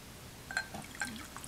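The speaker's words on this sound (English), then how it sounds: "It's 100 milliliters of distilled water. And I am going to add that to my" Distilled water, about 100 milliliters, poured into a solution in a glass container, with faint, soft trickles and drips heard close by in a quiet room.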